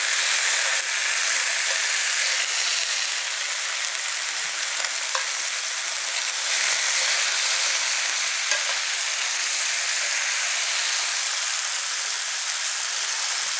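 Food browns in a hot pan with a steady, loud, continuous sizzle and frying hiss that holds unbroken throughout, with faint occasional stirring ticks and no talking.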